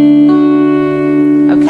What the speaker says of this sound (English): So just have a go at plucking those strings again.